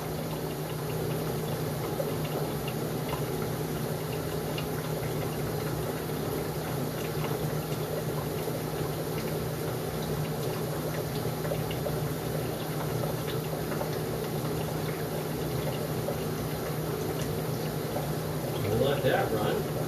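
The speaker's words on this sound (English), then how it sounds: "here comes the water from the sink" Water from a sink runs through a drain pipe, a steady rushing and gurgling flow heard close and constant, with a low hum underneath.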